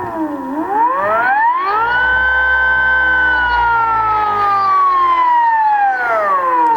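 Electric motor of a Volvo Penta saildrive EV conversion, turning with a coupling fitted, spins up with a rising whine, holds a steady loud tone, then winds down slightly at the end, with no other sound.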